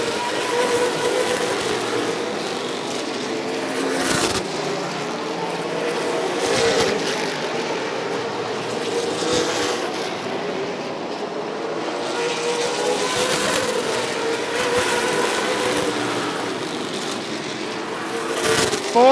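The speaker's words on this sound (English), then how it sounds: "Fourth, fifth, and sixth close as they lap around Bentz." Late model race cars lapping at Rockford Speedway during a feature race, a steady, loud roar of engines with repeated swells as cars pass, continuous for the whole stretch under a faint track-wide din.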